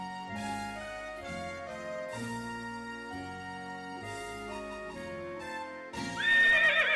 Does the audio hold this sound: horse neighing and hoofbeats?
yes